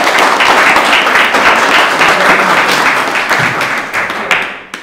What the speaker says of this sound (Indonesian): Tepuk tangan dulu untuk Anda.